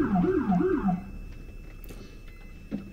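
A New Mexico State Police car siren wails in two quick rising-and-falling cycles in a parking lot, loud and close, then cuts off, leaving a quiet outdoor hum with a faint brief tone near the end.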